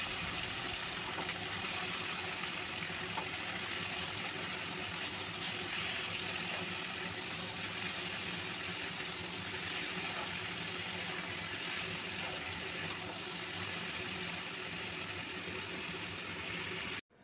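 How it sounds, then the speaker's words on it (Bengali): Potatoes frying on a high flame in a pan for a plain white potato curry, a steady loud sizzling hiss that runs unbroken and alone until it cuts off at the very end. "দিয়ে আমি আরও 2 থেকে 3 মিনিট হাই ফ্লেমে আলুগুলোকে ভেজে নেব।"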